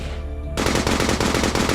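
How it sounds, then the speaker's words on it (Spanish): Intense automatic gunfire erupts abruptly after a short quiet lead-in, a loud, dense burst of rapid shots hammering continuously to the end. "de repente me desperté con tiroteos intenso, tiroteo intenso."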